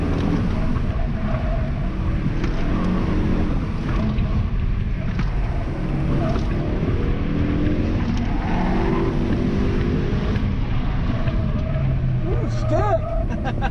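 A race car engine drones loudly and continuously on an SCCA autocross course, pulling hard as it accelerates, with a voice talking over the noise throughout.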